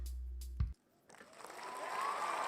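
Studio audience applause arriving late after a pause, a short burst and thump, then near silence, then a wash of clapping and crowd noise rising steadily and holding at moderate level.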